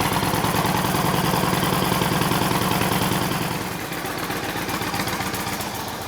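A 2008 Yamaha Raider motorcycle idles up to operating temperature before an oil change, a steady, close, throbbing engine loop that softens slightly midway and keeps running evenly with no voices.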